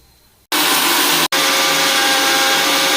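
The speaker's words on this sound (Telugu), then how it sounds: "కొబ్బరి, ఒట్టిమిరపకాయలు, గసాలు వేసి పేస్ట్ చేసుకుందాము." An electric kitchen blender grinds coconut, dried red chilies and poppy seeds into a paste, roaring loudly and steadily for a few seconds after a brief cut-out, with no one talking.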